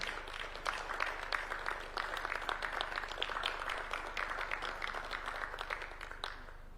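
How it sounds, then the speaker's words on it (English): Applause from dignitaries and guests at a state house handshake ceremony for the Kenyan and Slovenian presidents, a soft, steady round of clapping that carries on evenly before fading out. "as you shake hands, and a round of applause"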